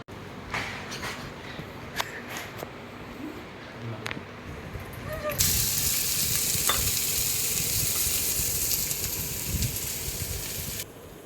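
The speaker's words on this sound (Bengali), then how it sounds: "এই যে মাছটা ভাজতে শুরু করেছি" Fish frying in a home kitchen pan gives a steady sizzle that swells into a louder, brighter hiss midway, with utensil clicks and scraping throughout and faint bird cooing in the background.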